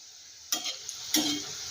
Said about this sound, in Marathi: आता भजी थोडेसे तळले गेले हे बघा ह्या बाजूचे तळले गेलेले आहेत